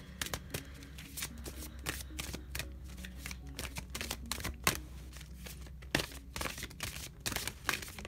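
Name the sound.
tarot cards being shuffled and drawn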